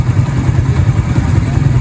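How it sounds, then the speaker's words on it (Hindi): A motorcycle engine rumbles steadily and fairly close, a low mid-pitched drone with a slight clatter, in a flood-hit area near Muzaffargarh. "ये सामने मोटरसाइकिल आंदी पे"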